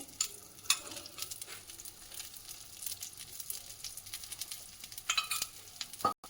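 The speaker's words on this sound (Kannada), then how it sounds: "ನಾನೀಗ ಸ್ವಲ್ಪ ಎಣ್ಣೆಯನ್ನು ಹಾಕ್ತಾ ಇದ್ದೀನಿ" Oil goes into a paddu pan of cooking paddu, giving a soft, fairly faint sizzle with scattered crackles and a few sharper spits near the end.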